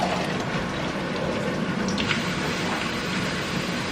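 Water drains off cooked peas in a home kitchen, a steady pouring rush at moderate level with no voices.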